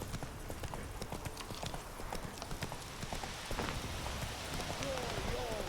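Roach, the horse in The Witcher 3, gallops with a fast, steady clip-clop of hooves that runs the whole way through, backed by a constant ambient bed and a faint voice near the end.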